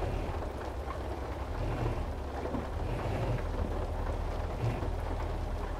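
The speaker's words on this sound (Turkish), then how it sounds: "Yağmur yağıyor." Rain falling during a road journey: a dense, steady hiss of drops over a constant low rumble, loud and even from start to finish with no voices.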